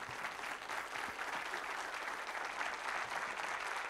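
Applause from an audience at a talk in Pune, a steady, even roar of many hands clapping, heard faint and distant without any voices over it.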